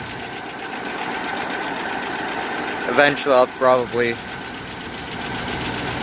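Old 1972 pushrod V8 in a Jeep Wagoneer with a big muffler idling with a steady low rumble, close and continuous, with someone briefly talking over it.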